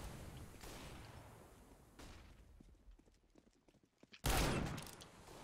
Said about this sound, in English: you just left click to keep shooting